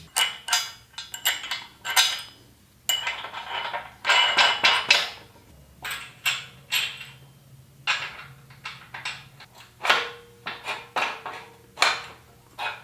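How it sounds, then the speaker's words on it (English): Metal nuts clinking and being threaded onto bolts during assembly of a Harbor Freight 20 ton shop press, a close series of sharp metallic clicks and rattles in irregular bursts, with no talking. "I'll go ahead and throw the nuts on there."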